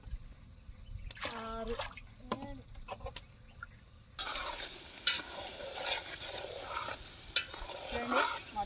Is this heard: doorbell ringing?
no